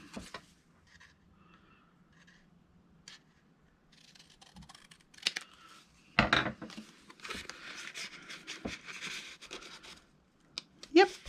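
A paper template being cut by hand during a card-making craft session, with soft snips and scratchy paper handling, sporadic and fairly close, under occasional quiet talk.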